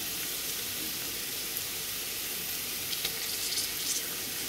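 Ginger and white onion frying in hot oil for a chicken roast gravy, giving a steady, even sizzle and hiss throughout with a few slightly brighter crackles near the end and no talking.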